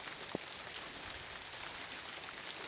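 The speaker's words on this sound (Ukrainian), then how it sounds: "Дощ південний, тому що забиває нам двері." Heavy rain drives against a south-facing entrance door during a December thunderstorm in southern Ukraine, a steady dense hiss of drops with one brief sharper knock near the start.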